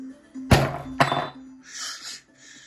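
A hand smacks a tabletop twice about half a second apart, each a sharp, close thump, over a low steady hum and some background music.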